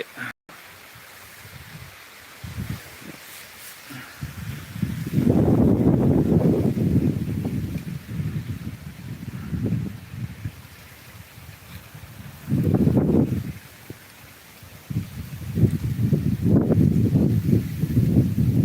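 Strong wind sweeps across sugarcane fields in Si Thep district, Phetchabun, Thailand, buffeting the microphone in loud, roaring gusts that surge and fade over quiet lulls, with no one speaking.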